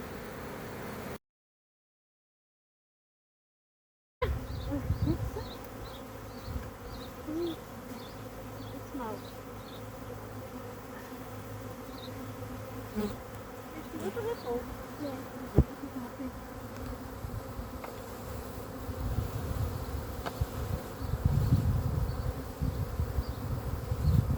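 A swarm of honeybees clustered in front of a hive, a continuous close buzzing drone with individual bees flying past, faint and steady, with a brief silent gap near the start.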